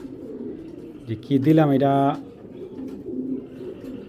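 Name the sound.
pigeons cooing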